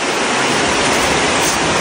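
Heavy rain pours down in a steady, loud, dense hiss that fills the whole moment without any break.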